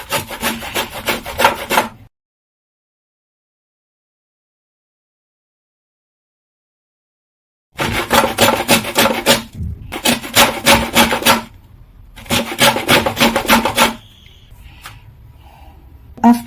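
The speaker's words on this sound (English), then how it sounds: "I'm going to use my grater here to grate the outer part of my" An orange peel scraped against a hand grater for zest, making loud, repeated rough rasping strokes in several bursts separated by pauses, including one long silence.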